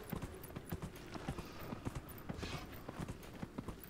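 Steady clip-clop of horse hooves at a brisk, even gait in the video game Dragon Age: Inquisition, in the Hissing Wastes desert at night, fairly close, with faint ambient wind behind.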